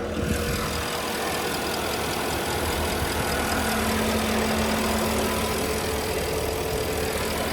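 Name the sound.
2010 Porsche Panamera 4S engine idling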